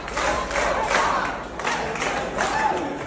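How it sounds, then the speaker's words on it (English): A crowd cheers and chants in rhythmic bursts, loud and dense, heard through a playback of a recording. "it shows everybody cheering for him"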